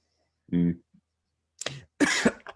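A short voiced sound, then a couple of close, raspy coughs mixed with laughing, with breathy bursts, separated by brief silences.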